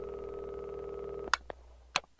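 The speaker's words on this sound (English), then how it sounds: "when I call Bolivia, it's a different ringtone. It's like an international ringtone." An international ringback tone heard while calling Bolivia by phone: a steady tone for over a second, then a few sharp clicks and bursts on the line, with no talking.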